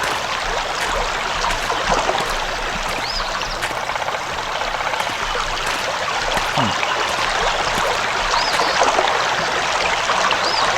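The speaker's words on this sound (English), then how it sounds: "The water is pristine and inviting, and loud as all hell." Loud, steady rush of a flowing brook in a video game, a continuous broadband water roar filling the whole clip with no speech over it.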